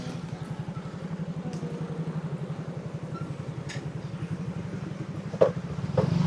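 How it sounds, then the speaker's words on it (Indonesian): A motorcycle runs close by on a village street, its steady mid-pitched engine rumble holding throughout with a faint rhythmic pulse, a brief louder knock near the end. "Awas ada motor."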